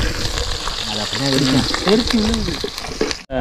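Steady loud sizzling of green chillies frying in hot oil, continuous throughout, with a few clinks and a muffled voice underneath, ending abruptly.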